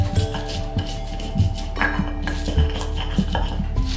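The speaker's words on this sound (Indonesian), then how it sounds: "Ini sebetulnya aku nggak pandai ya ngulek pakai cobek seperti ini" Chilies being ground with a stone pestle in a cobek, with salt added: steady scraping and knocking strokes of stone on stone, repeated rhythmically and close up, with a few louder thumps and no talking.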